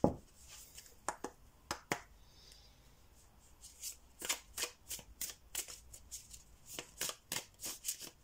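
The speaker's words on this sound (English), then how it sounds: "Naked Truth cards." A deck of Naked Truth tarot cards is shuffled by hand, giving sharp papery riffles and flicks in bursts that grow busier toward the end, close up and quiet, with no talking.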